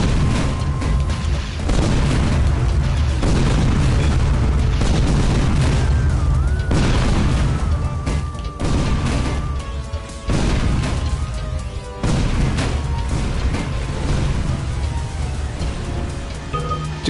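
Rapid, heavy gunfire from a weapon in the video game Tower of Guns, firing like bullet-bill projectiles, booms continuously over dense in-game noise and music with no talk.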